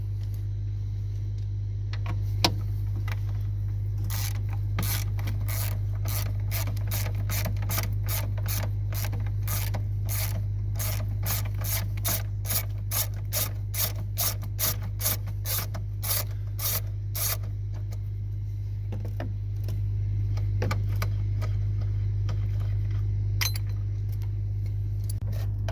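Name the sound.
13 mm ratchet loosening battery strap nut on Jeep Renegade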